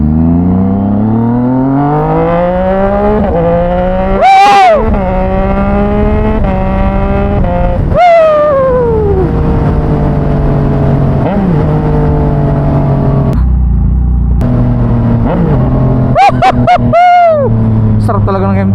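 Yamaha MT-09 motorcycle engine revving loud and close: a rumbling idle punctuated by several sharp throttle blips that climb and fall, with a quick cluster of rapid revs near the end, while someone talks over it.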